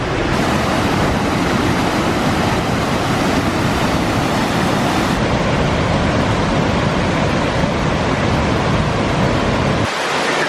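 The Rhine Falls in Switzerland roar from right beside the plunging water, a loud, dense and unbroken rush of thundering spray and churning river that fills the whole clip, with a brief dip in the low rumble just before the end.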